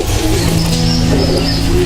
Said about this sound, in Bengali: এসব টুর্নামেন্ট করা কবুতর